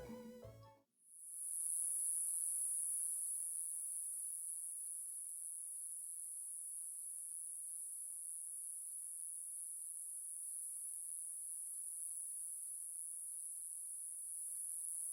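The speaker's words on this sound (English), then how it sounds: "the sounds of crickets in a meadow." Crickets in a meadow sing in a single steady, high-pitched continuous trill after a brief moment of other sound, faint and unbroken throughout.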